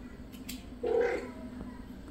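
A kitten gives a single short meow or whine, close by and fairly quiet, over a steady low hum of a room.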